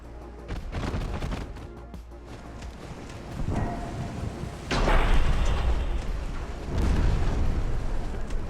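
Heavy booming blasts and rumbling explosions swell in waves over a dense, continuous roar, loud and reverberant like big guns firing, naval gunfire in the video game Ultimate Admiral: Dreadnoughts.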